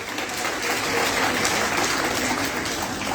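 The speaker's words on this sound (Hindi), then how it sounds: "सर के लिए एक बार जोरदार तालियों से" An audience at a district-level International Women's Day function applauds the chief guest with a steady, dense wash of clapping that holds at an even level throughout, without gaps.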